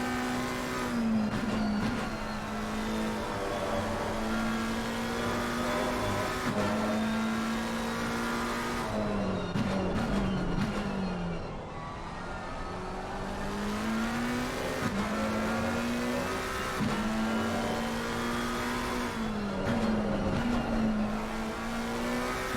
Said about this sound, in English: Why don't we ride along with him in this new GT3 McLaren and listen on here for a second.